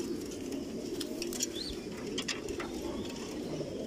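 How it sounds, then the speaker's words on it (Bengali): Racing pigeons in a large breeding loft coo softly and continuously, with a few brief chirps over a steady background hum and no talking. "মানে সবচেয়ে হাই কোয়ালিটির কবুতর যেগুলো আসলে"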